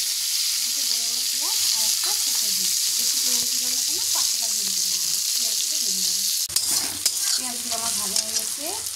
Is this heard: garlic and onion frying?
yes